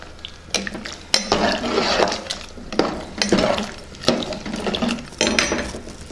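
Bottle gourd rasam being stirred in a metal pot, a ladle scraping and sloshing in repeated strokes with sharp clinks against the rim every second or so, close and clear with no talk.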